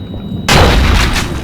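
A single gunshot in the survival horror game Cold Fear, an abrupt, loud, close blast that cuts in after a quiet moment and rolls into a long booming tail.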